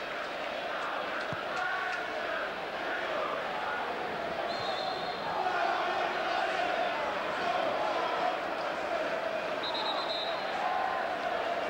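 Burnley football supporters in a packed stadium during a Division One match against Walsall, a steady mass of crowd singing and chanting from the stands, continuous and fairly distant, with commentary talking over it.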